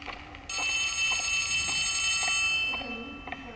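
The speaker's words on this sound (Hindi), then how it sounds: "फोन आ रहा है, फोन आ रहा है, ये फोन आ रहा है।" A phone ringtone rings in Poppy Playtime Chapter 3, a bright sustained electronic tone that starts abruptly, holds for about two seconds, then fades, with faint speech around it.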